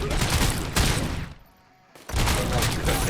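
A gunshot burst in the RoboCop: Rogue City video game: loud, dense volleys of rapid fire with a short near-silent gap between two bursts.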